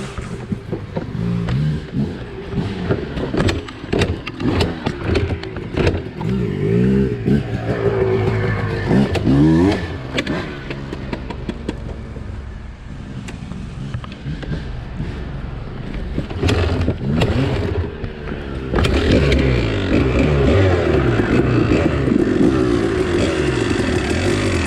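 A Kawasaki KDX200 two-stroke dirt bike engine revs hard while being ridden, with rising and falling throttle sweeps and gear changes, loud and close throughout, heavy wind and rattle mixed in.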